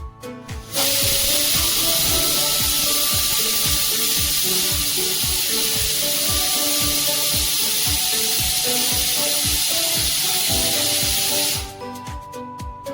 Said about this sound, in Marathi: या ठिकाणी कुकरच्या शिट्ट्या झालेल्या आहेत